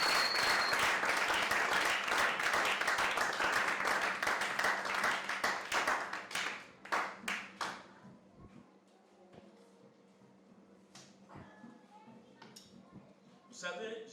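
A church congregation applauding during a Sunday service, a dense, loud wash of clapping that thins into scattered claps and fades, with a voice speaking French as it dies down.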